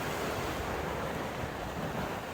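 Sea surf washing around someone standing in the water at Isla Blanca, a steady broadband wash of waves mixed with wind rush, loud and continuous with no talking.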